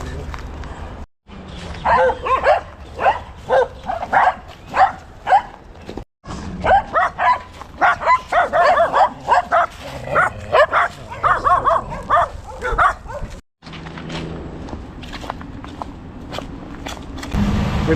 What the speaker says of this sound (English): These dogs have been the bane of my existence today.